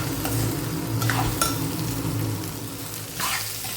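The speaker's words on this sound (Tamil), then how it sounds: "எண்ணெயிலேயே அது நல்லா வதங்கட்டும்." Mango ginger pieces sautéing in hot oil for a pickle, with a continuous close sizzle and a few brief stirring scrapes of a spoon in the pan, no talking.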